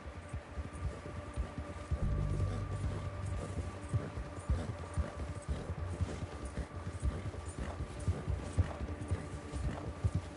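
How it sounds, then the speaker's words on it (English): A horse running in the video game Red Dead Redemption 2, hooves clopping in a fast steady rhythm, close and clear over a low ambient hum. "I always feel bad when I make my horse run."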